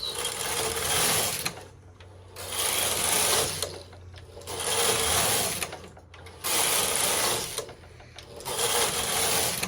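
A Silver Reed knitting machine knits a Fair Isle swatch with plaited yarn: the carriage makes rhythmic whirring, clattering passes, about five sweeps separated by short pauses, loud and close.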